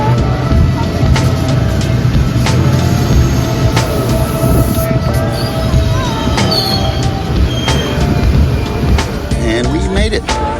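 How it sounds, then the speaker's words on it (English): A train rumbles into a station for Porto, a loud, continuous heavy rolling roar with intermittent metallic clanks and a high wheel squeal near the end. "Now we're just waiting for our train to Porto."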